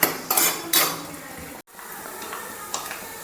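Chopped coconut pieces sizzle in a pan with a spoon scraping and clattering against the metal, a few sharp stirring knocks near the start over a soft frying hiss.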